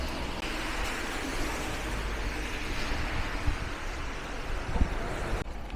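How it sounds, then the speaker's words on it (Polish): Strong wind and driving rain at the Baltic seaside make a loud, steady roar of broadband noise throughout, with no pauses and no voices. "Piździ jak cholera, deszcz zacina."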